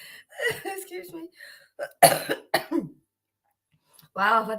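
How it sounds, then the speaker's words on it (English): A person speaks, then lets out a couple of sharp, close coughs, followed by a pause of silence and more talking. "Wow, I've had this cough for a few days now."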